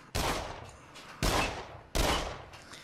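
Three loud, heavy shotgun blasts ring out about 0.7 seconds apart, each a sharp boom with a short decaying tail, with no talking.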